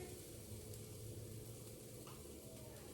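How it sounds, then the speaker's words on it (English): Steady frying sizzle of vegan fish for a sandwich in a pan, continuous and close, with a faint low hum underneath and no talking. "let this sizzle up here"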